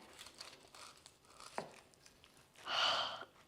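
A knife cuts into a crispy air-fried Scotch egg, a few faint crackles building to a brief louder crunch of breaking crust near the end, close and quiet, with no talking.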